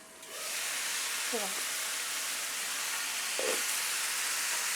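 A continuous soft hiss of steam building under a lid over okra cooking on a flat griddle, steady throughout, with a couple of brief, faint voice fragments.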